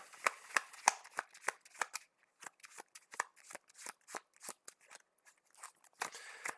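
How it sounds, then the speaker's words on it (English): A deck of trading cards is shuffled by hand, a rapid burst of crisp flicks and riffles with short pauses between bursts, close and fairly quiet, with no speech. "Let's shuffle again."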